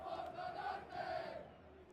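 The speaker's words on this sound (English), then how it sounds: "we can see the crowd chanting for the big match" Video game stadium crowd chanting before a football match, a steady, dense roar of many voices with rising and falling swells, fading slightly toward the end.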